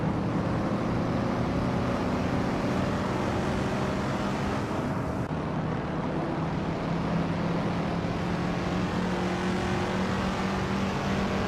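Race car engines in a racing video game drone steadily as several cars jostle and overtake, with a continuous loud hum and shifting engine tones throughout and no speech.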